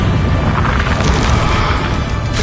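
Confringo spell in the video game Hogwarts Legacy exploding as a loud, dense blast that fills the short moment with crashing boom and debris-like noise.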